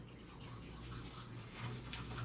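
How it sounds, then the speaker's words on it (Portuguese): Teeth being brushed with a toothbrush before putting on makeup, a close, steady wet scrubbing that continues without a break for a couple of seconds, with no talking over it. "deixa eu escovar meus dentes antes"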